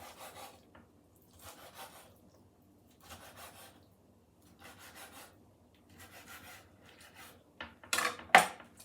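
Knife cutting a lobster tail into pieces on a board, giving repeated faint rasping crunches in short bursts, ending with a louder sharper cut.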